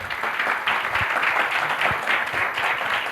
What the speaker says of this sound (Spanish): Aplausos para él, todo, por favor.